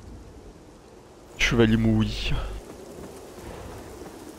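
Rain and thunder in a misty area of the video game Lords of the Fallen, a steady patter of rain under a single loud thunder rumble, with a character's voice speaking over it.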